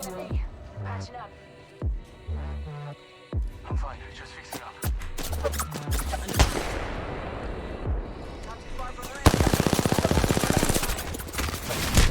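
Gunfire in Apex Legends coming from an enemy positioned above, sporadic shots and bursts building into sustained rapid automatic fire, loud and close, while a player talks over it.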